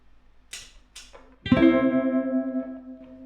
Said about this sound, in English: So, phaser, bit of reverb.